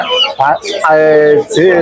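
Chickens clucking loudly and close at a poultry and duck market, a quick run of squawks and drawn-out cackles with no pause between calls.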